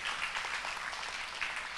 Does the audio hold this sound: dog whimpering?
no